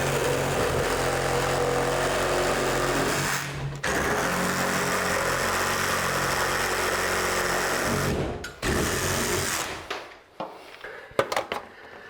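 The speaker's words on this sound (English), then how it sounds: "I'm gonna take my reciprocator out and get rid of this piece of strapping" A reciprocating saw cuts through a piece of strapping, a loud continuous buzzing drone with two short pauses, ending in scattered clunks and taps as the cut finishes.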